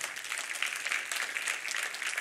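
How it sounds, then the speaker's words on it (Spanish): A church congregation claps for Christ during a service, a brief, fairly faint, steady wash of many hands heard from a distance. "Denle un aplauso fuerte a Cristo."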